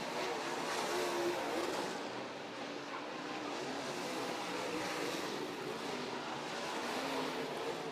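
A modified race car roars past on the East Bay track, a broad, steady engine rush that swells early and then holds as a distant wash of noise, with no clear talk.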